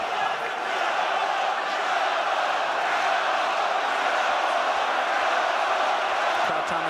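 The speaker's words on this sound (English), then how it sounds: "Crowd trying to spur Luke Campbell on" A boxing arena crowd at the Lomachenko vs Luke Campbell fight roars steadily for Campbell, a dense, sustained wash of cheering and shouting that holds at an even level throughout.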